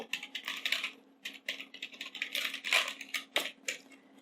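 Rapid bursts of close computer-keyboard typing in irregular clusters with short pauses, crisp clicking keystrokes over a faint steady hum, no talking.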